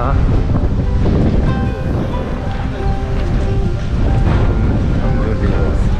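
Strong wind buffets the microphone on the Seogwipo coast of Jeju, with the steady roar of surf and waves underneath, loud and continuous throughout.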